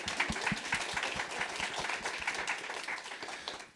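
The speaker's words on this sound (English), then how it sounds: "Yeah, I reckon that deserves applause." A writers festival audience applauds a prize winner, crisp individual claps close by within a moderate crowd, fading slightly at the end.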